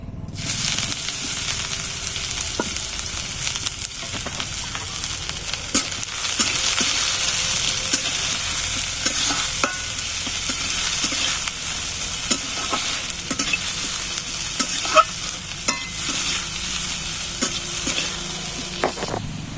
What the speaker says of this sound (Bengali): পেঁয়াজটা ভাজা হয়ে গেছে, এবারে তুলে দিচ্ছি।